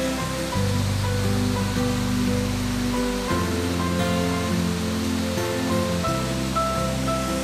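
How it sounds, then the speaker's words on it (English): A waterfall on the Isle of Mull, tumbling beside a road bridge, gives a steady, full rush of falling water heard close by, with a low hum running underneath. "there's the waterfall"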